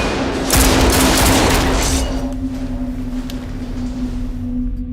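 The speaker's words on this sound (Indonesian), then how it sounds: "baku tembak pun tak dapat dihindari" Burst of gunfire from a yakuza film shootout at a gangster headquarters, a loud cluster of rapid shots early on, then a steady tonal hum and rumble as the firing fades toward the end.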